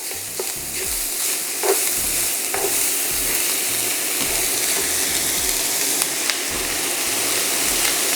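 Red bell peppers are stirred in a sizzling pan for Cajun dirty rice. A steady, loud fry hiss runs throughout, with a spoon scraping and clicking against the pan at irregular moments, and nobody speaks.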